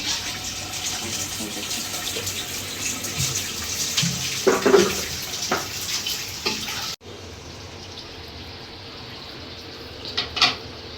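Water gushes from a tap and splashes into a cooking pot while chicken pulao is being made. A steady pour runs for several seconds before cutting off, and faint clatter follows.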